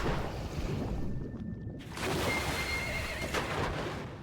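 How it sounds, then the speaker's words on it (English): A horse in Metal Gear Solid V: The Phantom Pain whinnies over steady outdoor ambience and hooves, with a brief quieter gap partway through and no talking. "That is a cute horse."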